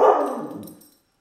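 A single dog bark, close and fairly loud, decaying over about a second with no talk, on a city street in New York.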